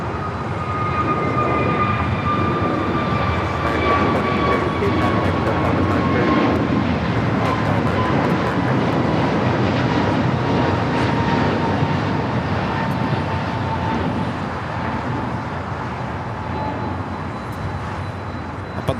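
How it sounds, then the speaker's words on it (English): A Japan Airlines Boeing 787 Dreamliner on short final for runway 24 right at LAX, a loud steady jet roar with a slowly falling engine whine sustained throughout, without talk. "Japan Airlines Dreamliner now short funnel for 24 right."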